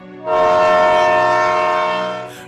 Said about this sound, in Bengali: ঠিক রাত 12:05 ট্রেনটি এলো।